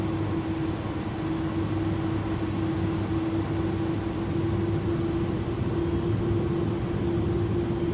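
iniBuilds A300 cargo jet engines in Microsoft Flight Simulator, a steady loud turbine roar with a constant tonal whine, throttling up smoothly without a break.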